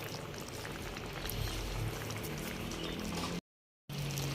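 A potato and capsicum curry simmers in boiling water in a pot, giving a steady, faint bubbling hiss that briefly cuts out before resuming.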